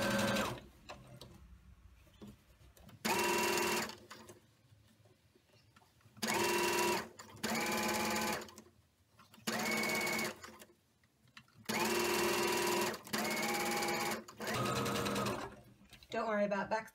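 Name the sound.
sewing machine stitching a long seam on a pillow case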